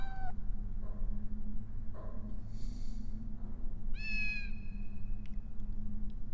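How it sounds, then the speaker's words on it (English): Little cat in the PlayStation game Harry Potter and the Sorcerer's Stone, giving several short meows at irregular intervals, with a longer rising-falling meow near the end, over a steady background hum. "Oh, it's Nibble's little cat."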